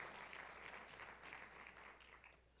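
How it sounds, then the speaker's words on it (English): A crowd at a talk claps together in steady, dense applause that fades slightly toward the end. "Can I hear maybe a clap of hands?"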